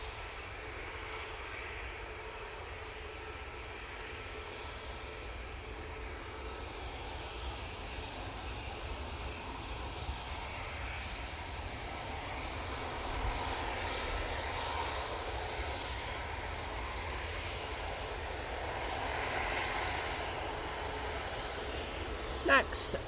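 An airliner rolls down the runway at Manchester Airport on takeoff for a flight to Belfast. Its engines give a sustained, moderately distant roar that builds slightly over time while a voice talks over it.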